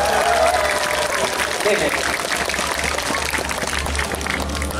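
An outdoor audience at a traditional martial arts demonstration at Suwon Hwaseong Fortress applauds, a scattered, moderately loud patter of clapping over a low steady rumble, with a brief voice speaking near the start.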